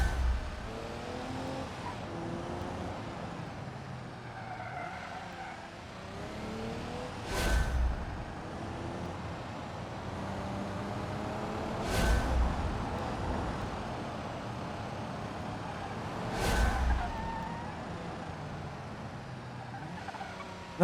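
Inline-six car engine in the BeamNG driving game, a continuous droning engine note rising and falling with gear changes, with three sharp louder bursts spaced several seconds apart, no voices.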